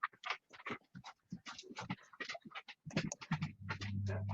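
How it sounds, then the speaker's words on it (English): A dog pants rapidly and unevenly at close range, with quick breathy huffs and a faint whimper, in a quiet indoor room; a low steady hum enters toward the end. "And of course, Lily's going to bark"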